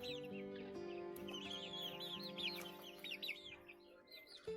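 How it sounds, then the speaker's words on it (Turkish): Chickens cluck and chirp repeatedly nearby in a lively, overlapping chorus, with no talking. "Güzel de tavuklar."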